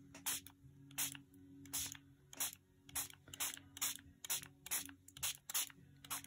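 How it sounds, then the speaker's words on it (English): Gold spray paint is sprayed onto a tray in about a dozen short, loud hissing bursts at a steady rhythm, with brief pauses between them and a faint rattle now and then. "I'm just going to spray some of the paint that I used earlier on the other little ones"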